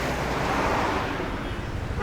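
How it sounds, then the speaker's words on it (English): Car horns toot amid a dense roar of traffic and crowd noise at the Nürburgring 24-hour race, the honks blending into a steady, broad wash of sound. "The people are honking because they all want their places."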